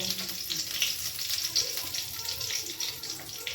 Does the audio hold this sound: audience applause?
no